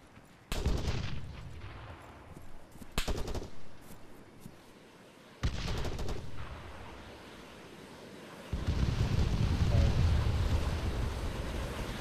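Arma 3 gunfire booms in loud bursts, a sharp volley near the start, another around three seconds and a heavy report midway, with rumbling, wind-like noise between shots and a sustained roar toward the end.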